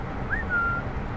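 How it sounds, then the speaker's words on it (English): Two-tone whistle from an HST train in the Train Simulator 2021 game on the Exeter to Reading route, a single brief high note that steps down and holds, moderately loud and alone over a low background rumble. "Oh, whistle."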